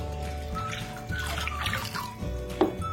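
Dissolved fertilizer solution for grape vines pours into 25 liters of water, a close, steady gushing and splashing flow with a brief louder splash near the end.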